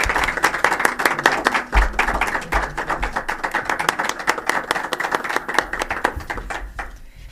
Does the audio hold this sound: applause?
yes